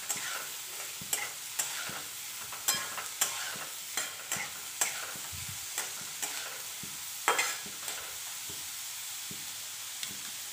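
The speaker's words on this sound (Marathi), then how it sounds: "हा कांदा आपण चांगला परतून घेऊयात." Chopped onion sautés in a pan for tomato chutney, with a continuous sizzle and frequent rhythmic scrapes and taps of a spatula stirring it, fairly close.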